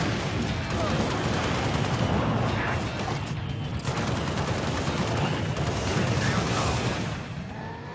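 Dense, continuous gunfire and battle noise from the Halo Reach campaign roar steadily and loudly, with clustered shots blending into a constant wash before easing slightly at the end.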